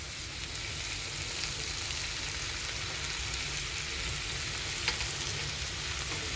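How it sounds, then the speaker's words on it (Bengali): Boiled, squeezed banana stem being mixed into a wok keeps up a continuous sizzle with soft stirring scrapes and one brief sharp tick, steady and close with no talking. "আমি এটাকে কড়াইতে মিশিয়ে দিলাম।"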